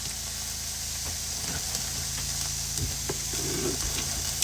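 Onions caramelize in a pan at a hunting camp, giving off a continuous, close sizzle and crackle, with scraping stirs and light clatter mixed in and no talk.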